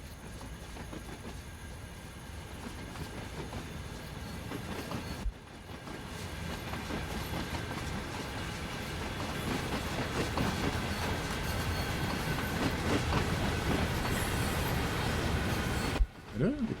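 A freight train approaching on Cajon Pass in a train simulator game, a steady broad rumble with wheel clatter that swells gradually in loudness throughout, with someone talking over it.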